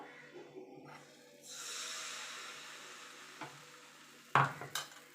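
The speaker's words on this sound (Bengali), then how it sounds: "এক হাতা করে ব্যাটার দেবো" Pitha batter ladled into a pan for patishapta, a soft pour and sizzle followed by metal ladle scrapes and clinks against the pan, close and quiet, with a sharp clank near the end.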